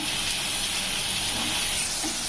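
Tomatoes sauté in hot oil in a pan, giving a loud, continuous close-up sizzle and hiss with no talking.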